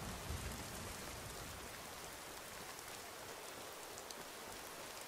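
Steady rain falls evenly in the video game Skyrim Special Edition, a dense, soft patter with no talking, constant and unbroken throughout.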